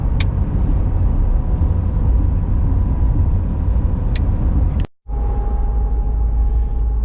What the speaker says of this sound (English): I'm driving in the truck